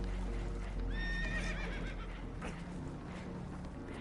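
Spooked horses in Red Dead Redemption 2 give a sharp, rising whinny, with hoof clatter and a rough, busy background that continues after the call.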